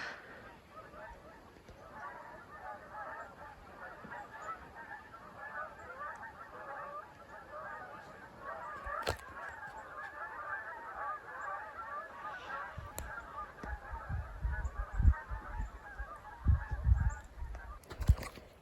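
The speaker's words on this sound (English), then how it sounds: "Geese." Geese honk outdoors on an October morning in a forested park, a steady faint chorus of overlapping calls from a distance, with closer rustling and handling noises near the end.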